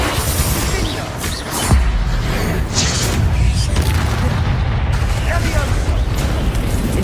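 Bombarda blasting spell in Hogwarts Legacy, a loud booming burst around the middle of continuous heavy combat noise, with further crashes and pops and a voice casting spells.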